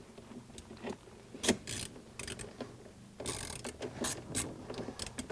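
7mm bolts being ratcheted in under a car dashboard while refitting a locking glove box: quiet, irregular clicking ratchet strokes and light metallic handling, no talk.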